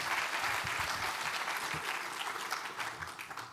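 Audience applause at a Rust programming conference talk in Wellington, New Zealand, steady and dense clapping from a crowd that carries through the whole stretch and eases slightly toward the end.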